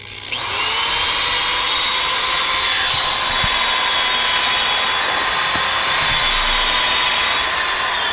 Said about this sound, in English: Again, you get to watch me drill holes.